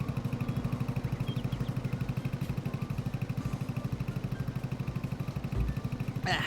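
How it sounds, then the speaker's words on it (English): Small tractor engine in the Farming Simulator 22 video game, a steady two-stroke-style putt-putt idle with fast even pulses, close and continuous throughout with a brief clatter near the end. "thing sounds like a 2-stroke putt-putt machine."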